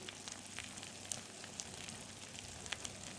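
Spiced masala sizzling in oil in a pan for stuffed brinjal curry, a soft, steady frying hiss with faint crackles and pops, no voices.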